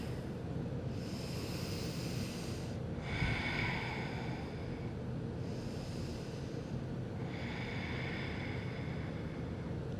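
Heavy breathing during an advanced yoga session: slow, loud inhales and exhales repeat in an even rhythm, close to the mic, over a constant low background hum.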